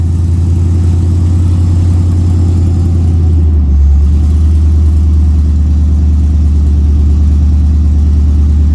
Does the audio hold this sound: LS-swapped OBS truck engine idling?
yes